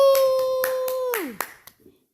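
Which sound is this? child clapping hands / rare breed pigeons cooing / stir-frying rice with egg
child clapping hands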